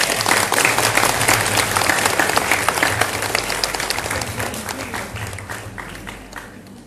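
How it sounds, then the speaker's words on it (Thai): An audience applauds loudly and steadily at a Thai-language technology and IT careers event, dense clapping over a low hum, fading slightly toward the end. "ขอเสียงปรบมือให้"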